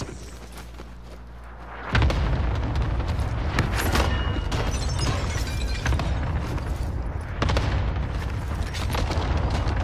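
Dense, loud bursts of gunfire and booming impacts in a tactical shooter video game battle, starting abruptly after a quieter hum and continuing as a steady barrage with occasional sharper cracks.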